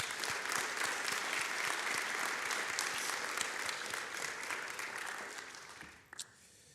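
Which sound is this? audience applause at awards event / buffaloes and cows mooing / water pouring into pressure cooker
audience applause at awards event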